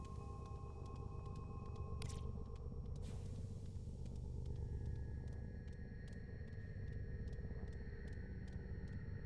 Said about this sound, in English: Yep, I hear the thunder.